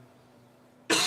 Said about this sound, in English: I still got this random cough every now and then